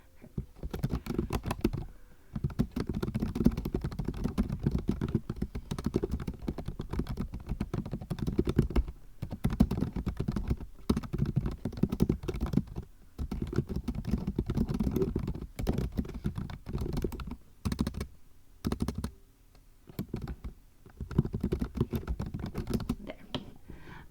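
Computer keyboard typing in a fast, irregular patter, close and steady for most of the stretch, with brief pauses near the end.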